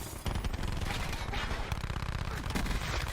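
Rapid automatic gunfire in Call of Duty Black Ops 4, a dense continuous stream of close, punchy shots running for about three seconds with a busy game soundscape behind it.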